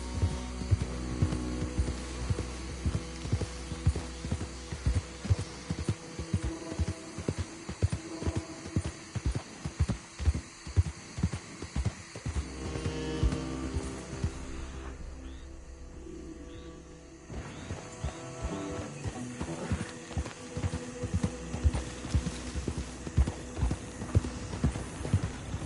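Horse hooves clip-clop in a steady rhythmic gait across Red Dead Redemption 2, close and prominent, briefly easing off midway before resuming over a low hum.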